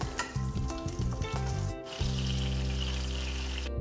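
Mititei sausages frying over high heat, a loud steady sizzle close by, with a few clattering knocks at the start.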